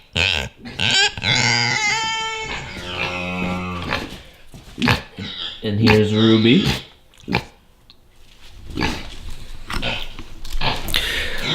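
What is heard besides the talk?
pet potbelly pigs grunting indoors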